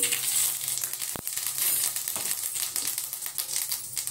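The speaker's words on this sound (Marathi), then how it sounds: "आता आपण तडका देऊया। अर्धा चमचा राई टाकून घेऊ।" Mustard seeds sizzle and crackle in hot oil, a continuous hiss scattered with small pops and one sharp crack.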